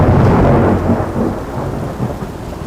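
Heavy thunderstorm with a loud rolling rumble of thunder over steady falling rain, close and dense, with no voices.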